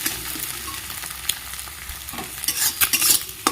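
Egg fries in pieces in a hot pan while being stirred, a close, crackling sizzle with scraping stirs that grows louder and busier toward the end.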